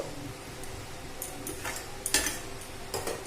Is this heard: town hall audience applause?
no